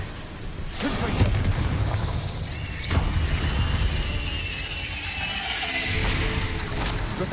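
Explosive Confringo spell blasts from Hogwarts Legacy gameplay on PS5, a burst near three seconds amid dense, continuous game noise with squeals and whooshing effects throughout.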